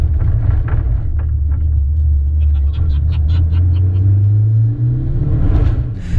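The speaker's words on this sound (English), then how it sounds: "Let's go over some train tracks and see how bumpy it is." A turbocharged Hyundai Elantra rolls over bumpy train tracks with a loud low rumble from inside the cabin, a string of thumps from the bumps, and the engine note rising toward the end, with no talking.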